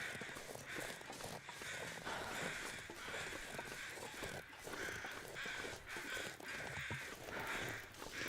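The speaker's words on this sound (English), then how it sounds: "Crows are out now." Crows caw repeatedly in The Long Dark, with harsh calls at a middling distance recurring over a continuous rough wind-like background.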